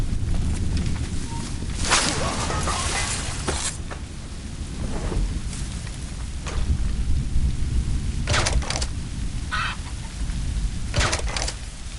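A thunderstorm in the game Assassin's Creed Rogue: a constant roar of heavy rain, broken by several sharp cracks and splashes scattered across the stretch, with low thunder rolling underneath at a steady, loud level.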